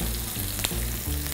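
Onions fry in a hot pan of oil, a dense close sizzle with a brief scrape of stirring, set over soft rhythmic background music.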